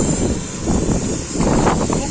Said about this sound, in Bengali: প্রচুর বাতাস হচ্ছে